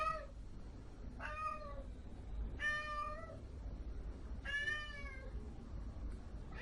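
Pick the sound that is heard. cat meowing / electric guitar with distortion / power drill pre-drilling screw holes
cat meowing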